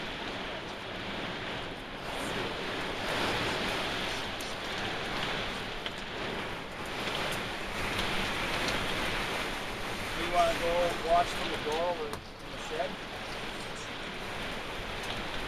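A violent storm at a campground in South Bismarck, North Dakota, with steady roaring wind and a dense hiss of hail or heavy precipitation, broad and continuous; someone speaks briefly over it.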